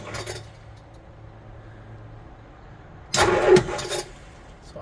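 A vintage MOPAR engine cranks over in a short, loud burst of starter grinding that stops after about a second, following a stretch of quiet background hum.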